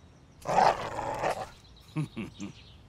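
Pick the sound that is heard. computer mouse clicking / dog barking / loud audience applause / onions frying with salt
dog barking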